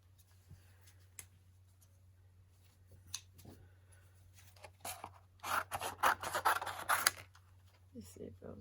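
Paper being cut with scissors during a card-making session with layering stamps and dies: soft clicks early on, then a loud burst of steady snipping and rasping cuts near the end, with a constant low hum underneath.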